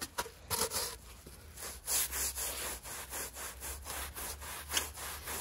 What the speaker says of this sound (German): Männer haben da mehr Kraft zum Schrubben.